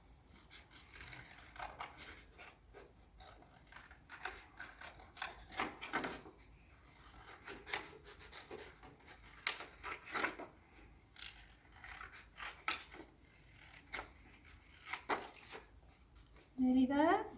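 Scissors cutting out a cardboard wing template, a steady run of crisp snips and paper rustles at close range, fairly quiet, with brief handling noises between cuts.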